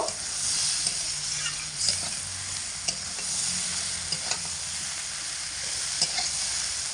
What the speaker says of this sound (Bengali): সর্ষে দিয়ে খুব ভালো করে এটাকে নাড়াচাড়া করে এর মধ্যে মিশিয়ে নেব